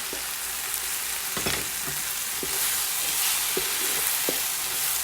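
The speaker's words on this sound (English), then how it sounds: "get a nice little sizzle going on" Fried rice sizzles steadily in a hot pan during deglazing, a constant hiss with scattered scrapes and clacks of a utensil against the sides.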